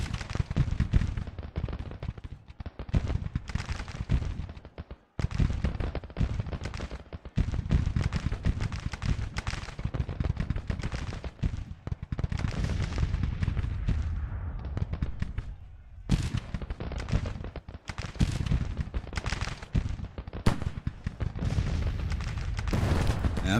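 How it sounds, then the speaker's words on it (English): Civil War artillery in the Grand Tactician strategy game: a coffee mill gun spits rapid rounds alongside Gatling guns, a dense, continuous crackle of overlapping gunfire with brief gaps. "that spitting sound, that's the coffee mill. The other sound's the Gatling."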